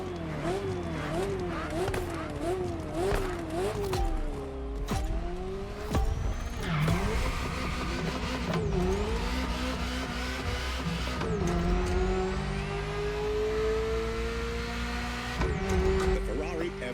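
A Ferrari F40 with a V8 biturbo engine racing in The Crew Motorfest, its revs climbing and dropping in quick repeated shifts, with tire squeal and steady engine drone under a speaking voice.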